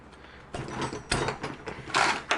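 A 12-point wrench works 12 mm bolts loose on the turbo covers of a 7.3 Powerstroke GTP38 turbocharger, giving a few quiet, separate metallic clicks and scrapes up close.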